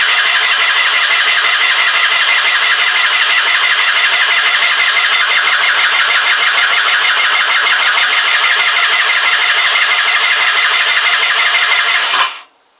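A Kymco Agility 125 scooter engine is cranked with an empty carburetor, a loud, continuous close-up whirring churn that holds steady for about twelve seconds before cutting off abruptly.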